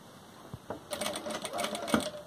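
A sewing machine starts up and runs a straight stitch on a homemade cloth face mask, a fast steady clatter after a few slow clicks, close and fairly quiet, with no talking.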